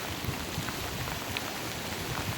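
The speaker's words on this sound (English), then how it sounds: "we've got a good little rain right now" Rain falls steadily in Sunnidale Park in Barrie near Kidds Creek, an even, soft hiss of drops with scattered closer patters and no voices.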